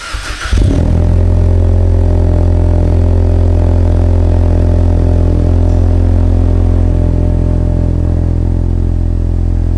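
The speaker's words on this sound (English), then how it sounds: "let's go ahead and get the cold start of the Mustang EcoBoost once again" A 2018 Ford Mustang EcoBoost engine cold-starts with a brief crank, then settles into a loud, steady, deep idle drone that runs on without talking.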